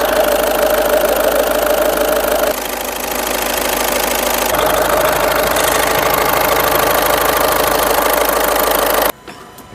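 A car engine that has overheated, with the ABS warning light on, runs steadily with a rough, knocking idle, loud and close, its tone shifting slightly before cutting off abruptly at the end.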